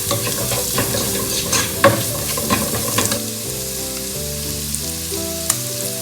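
Chicken sautéing with ground black pepper for a Spanish-style chicken paella, a steady close sizzle and frying hiss with stirring scrapes and occasional utensil clinks, no talking.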